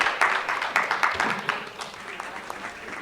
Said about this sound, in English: Let's have a huge round of applause, everyone